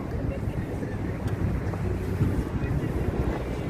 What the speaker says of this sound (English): It's windy, but it's a nice day out.